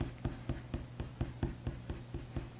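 A coloured pencil scratches in quick, even strokes across Fabriano Artistico hot press watercolour paper. The steady rhythmic scribbling is close but quiet, with no speech.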